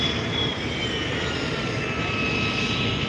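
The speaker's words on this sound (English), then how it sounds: "definitely a vintage military aircraft. It's very loud" Loud, roaring engine drone of a vintage Eastern Bloc military propeller aircraft, an Ilyushin, passing nearby at an air show, sustained and steady with a faint whining tone shifting over it.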